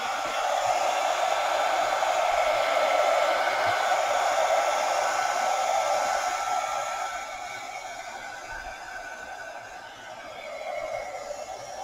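A hair dryer runs at a steady, loud whoosh while it dries paint on a gelli plate. Its pitch and level dip slightly toward the end, with no talking over it.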